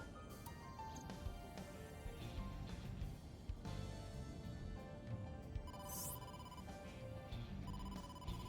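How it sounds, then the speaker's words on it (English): An incoming-call phone ringtone from the video game AI: The Somnium Files, a repeating electronic ring with a melodic pattern running continuously at a fairly faint level under game music and effects. "incoming call from the boss"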